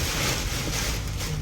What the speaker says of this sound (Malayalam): നല്ല കാറ്റും മഴയുമാണ്.